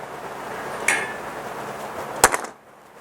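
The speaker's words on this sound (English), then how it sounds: "we take the clamp off of here" A metal clamp comes off a shop crane arm in a workshop, giving two sharp metallic clanks: a light one early and a louder knock with brief rattle near the end, over steady background hiss.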